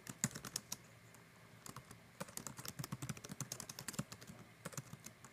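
Quick, uneven clicking of a computer keyboard as someone types a short line of text, the keystrokes close and fairly soft, with a brief pause near the start before a steady burst of typing.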